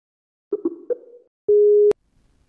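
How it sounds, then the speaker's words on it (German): A telephone line gives a single short, steady electronic tone while a call is placed, preceded by a few faint clicks and blips. "ich werde sie einfach mal anrufen"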